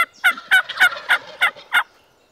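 Wild turkeys gobble near decoys on a road during a hunt, a rapid string of about seven sharp gobbling bursts at moderate distance, fading out at the end.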